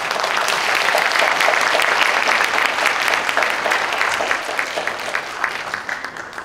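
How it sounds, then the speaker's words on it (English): Audience applause at an anniversary year-end ceremony after certificates of completion are presented, steady dense clapping sustained throughout and easing slightly toward the end. "Let's give a applause"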